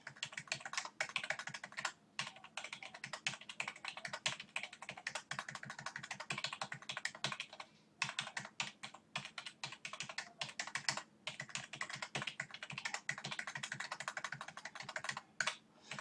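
Rapid, steady keystrokes on a computer keyboard, close and clear, with a few brief pauses and no voices.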